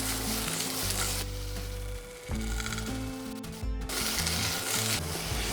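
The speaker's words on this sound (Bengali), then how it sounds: "পেঁয়াজটা আমি জাস্ট সতে করে নিতে চাইছি" Chopped onion is sautéed in hot oil in a pan alongside already fried potatoes for an egg curry. A loud, steady, close sizzle is broken by stirring scrapes, with no voices.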